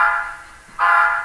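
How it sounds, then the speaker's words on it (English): Two sustained blasts from a Tsunami2 sound decoder's air horn, a steady harmonic tone that cuts off briefly, then sounds again loud and close with a slight reverberant tail. "So when I blow the short horn"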